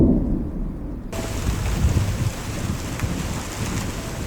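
Heavy nighttime rain pours steadily alongside low rumbling thunder, a dense, continuous wash of noise that swells after a brief quieter opening and stays loud throughout.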